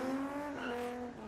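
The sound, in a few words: car skidding with a slipping clutch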